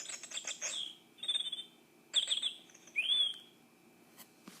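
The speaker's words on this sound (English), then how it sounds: "you can hear them tweeting and singing in the trees in the morning." Birds chirp and sing among the trees early in the morning, with a quick rapid burst of tweets followed by several clear whistled phrases at moderate loudness and no voices.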